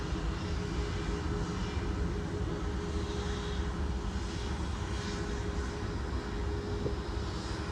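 A British Airways jet climbing out after takeoff at Manchester Airport, a loud sustained engine roar with broad rushing noise, steady and fairly near, heard alone.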